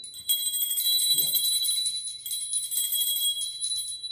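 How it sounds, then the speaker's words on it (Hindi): A bright, sustained metallic puja bell rings continuously during a housewarming ceremony, with steady tinkling overtones, fairly close, with a brief pause midway before ringing resumes. "चलो आप ये घंटे बजाओ, ये घंटे बजाओ, ठीक है।"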